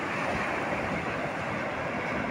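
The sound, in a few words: river waves at Bakkhali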